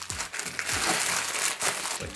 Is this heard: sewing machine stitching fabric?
no